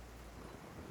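Thunder and rain in the video game Genshin Impact make a dense, continuous low rumble mixed with the wash of steady rainfall. The sound is brief and fairly quiet.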